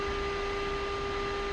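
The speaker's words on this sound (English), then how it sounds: "What you're hearing there is going to be the radar altimeter." Radar altimeter warning in the cockpit of an L-39ZA Albatros in the DCS World flight simulator: a continuous, steady electronic tone of two pitched notes over the constant roar of the running jet engine.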